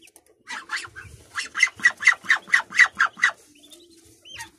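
Muscovy and mixed Muscovy-local ducks kept with newly hatched ducklings give a close, rhythmic run of about a dozen quick raspy calls, with faint bird chirps around them.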